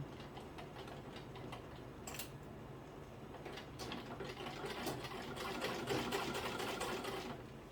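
A sewing machine stitches a fabric bodice with a fast, even mechanical whirr and ticking, running continuously and fairly quietly while the stitch is locked and sewing carries on.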